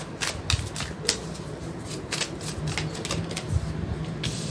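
Tarot cards shuffled steadily for several seconds, giving a dense run of soft riffling flutters and sharp snaps at close range, with a faint low hum underneath and no talking.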